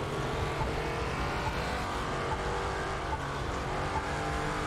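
Racing game car engine in The Crew 2 drones at steady speed while the car slides out of control, with a faint tire scrub under a continuous moderately quiet roar and no voices.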